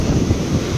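Sea waves foaming on the shore, a steady close rush of surf mixed with wind buffeting the microphone.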